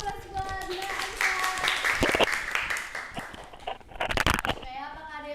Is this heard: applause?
yes